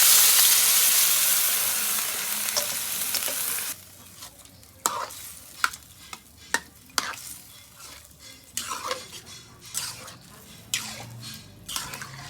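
Soured leftover rice poured into khichuri in a pot: a loud sizzling rush at first, then quieter simmering broken by sharp scrapes and clinks of a spoon stirring against the pot.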